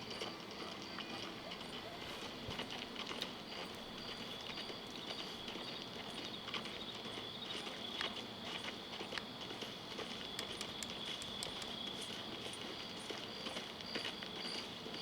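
Horse hooves clip-clop at a steady walking rhythm in Red Dead Redemption 2, a low, even patter of repeated strikes under a constant bed of ambient game noise.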